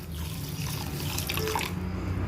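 Water pouring steadily onto sugar in a wok with a light splashing trickle, close by, continuous throughout with no talking.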